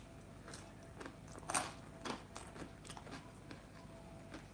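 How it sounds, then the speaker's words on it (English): Pizza bagel crust is chewed close up in a series of soft, irregular crunches and bites, one sharper crack near the middle, set against a quiet background with no talking. "While chewing the crust."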